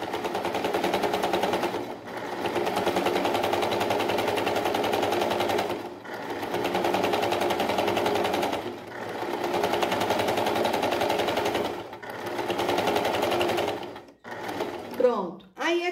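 A sewing machine stitches an appliqué patch onto fabric, running in loud continuous bursts of rapid needle clatter separated by brief pauses, with a few quick mechanical adjustments near the end.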